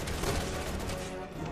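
Gunfire and impact crashes in Resident Evil 6 as Leon aims at an enemy's head, a dense, loud burst of blasts and rumble filling the short moment with no talk.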